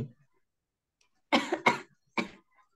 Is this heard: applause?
no